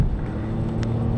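2011 Volvo XC60 pulling away in city traffic, a short steady low rumble of engine and road noise from inside the car.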